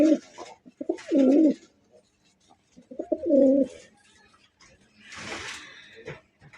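Rasgolla-breed pigeons coo nearby in low, throaty, rolling calls, two distinct bursts separated by a pause, followed by a rustling, shuffling noise.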